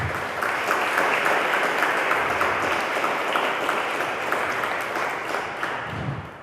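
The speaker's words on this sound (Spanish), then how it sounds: "Un aplauso para ella, por favor" Steady, dense applause from an audience at a book presentation, filling the whole stretch at an even, loud level with no voices over it.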